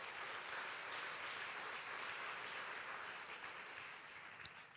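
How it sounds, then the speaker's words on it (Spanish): Church congregation applauding during a sermon, a broad wash of clapping heard faint and distant, steady before thinning slightly toward the end. "Vamos a darle fuerte el aplauso al Rey de Reyes."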